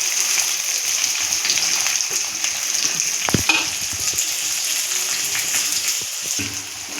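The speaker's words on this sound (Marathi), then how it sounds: "कांदा मस्त असं छान असं फ्राय झालेला आहे" Long-sliced onions sizzle and fry steadily in hot oil in a pan for a potato curry, a continuous bright crackle with a brief stir or clatter partway through and no talk.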